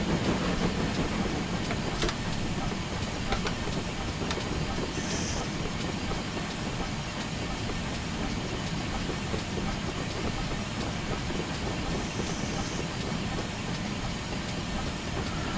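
A simulated GWR Saint steam locomotive hauling goods wagons in a train simulator game, giving a loud, continuous rumble and hiss with faint rail clatter throughout, with no talking.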